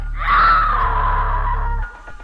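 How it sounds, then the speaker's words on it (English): A woman's horror-story scream, one sustained high shriek lasting nearly two seconds, loud and close over a low rumbling drone that cuts off at the end. "Emma screamed"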